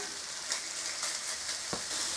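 Bacon frying in a pan, partly cooked with rind on, a steady close sizzle with occasional stirring scrapes and small pops, fairly quiet and continuous.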